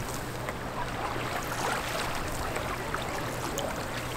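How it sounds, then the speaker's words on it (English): Choppy Lake Ontario waves slosh and slap against a moving boat near shore, a steady rushing wash of water under a low engine drone, moderately loud and continuous. "So the waves have picked up a lot out here."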